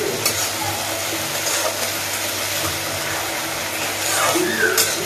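Ginger garlic paste, loosened with a little water, fries in a pan with a constant close hiss and sizzle and occasional stirring, with a faint voice in the background.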